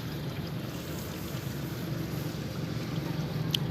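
A gas-fuelled 2-inch water pump engine runs steadily with a low, even drone and no break in its level from start to end.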